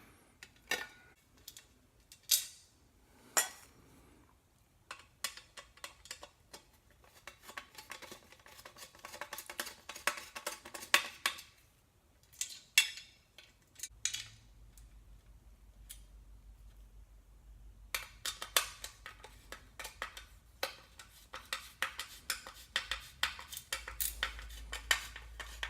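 Small metal ceiling fan hardware and screws being fitted into a fan part, with repeated clinks, taps and rattling handling noises close by, in uneven bursts with a low hum underneath.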